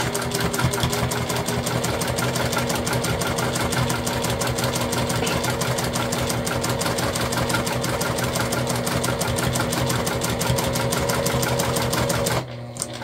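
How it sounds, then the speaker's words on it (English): A sewing machine runs steadily along the edge of Family Dollar dish drying mats being made into a tote bag, giving a fast, even, mechanical hum that stops abruptly just before the end. "And we're just sewing at 1/8 inch from the edge."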